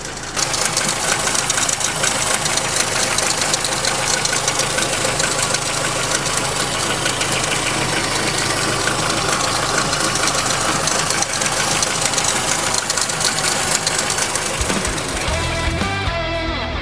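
Renault Twingo engine idling after repair work, a steady, loud mechanical drone with a slightly uneven, knocking rhythm throughout, running alone until it cuts off near the end.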